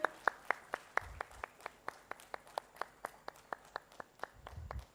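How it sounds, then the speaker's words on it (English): A round of applause at a textile launch event in Bhubaneswar, heard as a steady, evenly spaced run of single claps, fairly distant and faint, with low rumbles underneath. "A big round of applause, ladies and gentlemen."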